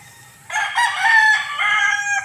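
A rooster crows loudly and close by in one drawn-out call, rising and holding before tapering off, with a faint low background hum and no talk.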